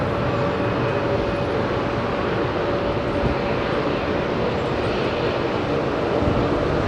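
Jet airliner with smoky Pratt & Whitney engines departing runway 27R at London Heathrow, producing a steady, loud rumbling roar with a faint tonal whine, sustained the whole time with no voices.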